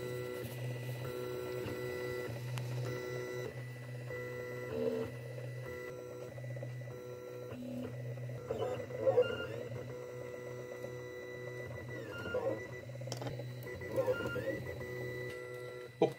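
A Bresser Raptor 3D printer runs at close range, its stepper motors whirring and whining in shifting pitched tones with occasional clicks and short beeps, continuous throughout.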